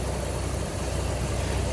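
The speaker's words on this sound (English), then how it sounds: "if you hear all the air in the background, it's because the engine's running." A 2-valve Ford Triton engine idles with a misfire on cylinder number two, giving a steady, continuous low rumble with a faint uneven pulse and airy hiss, close and unbroken for the whole stretch with no talk.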